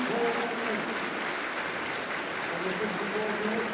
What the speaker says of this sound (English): Jarvis first takes the applause from the supporters.